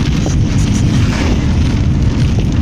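Heavy thunder rolls in a violent storm during a fierce hurricane on the Volga, a loud, continuous deep rumble filling the whole stretch without a break.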